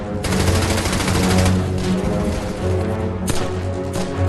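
German machine guns fire in rapid sustained bursts during a wartime battle near an abbey, loud dense rattling that breaks briefly and resumes, with no voices over it.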